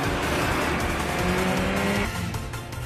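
Car tires skidding during a night street race in a Japanese anime, with a loud sustained screech over engine roar. The screech drops away after about two seconds.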